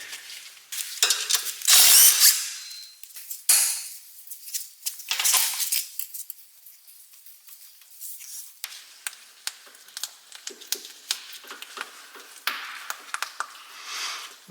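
A ratchet fitted with a 14 mm socket works a bolt on a Mazda 3 during a tie rod replacement, starting with bursts of loud clicking and continuing as quieter, intermittent ratcheting clicks and metallic taps, with no talk.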